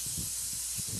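Short hissing bursts come from a spray can aimed at a cooking pan, loud and close, with a steady background hiss between the bursts.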